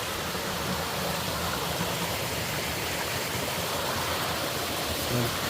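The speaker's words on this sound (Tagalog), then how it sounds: "Dito tayo sa pinakabukana ng falls." A hidden waterfall rushes steadily, its dense hiss of falling water filling the whole scene without pause.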